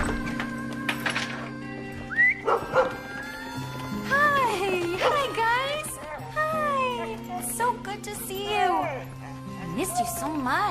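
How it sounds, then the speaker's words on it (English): A dog barks and yips excitedly several times, close by, mixed with people talking and background music. "what are you barking at?"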